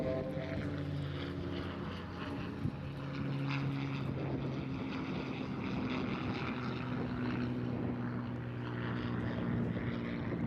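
A P-51D Mustang flies a victory roll at the end of its display at the Eastbourne International Airshow. Its piston engine and propeller drone steadily from a distance, with the pitch sliding and shifting as the aircraft rolls.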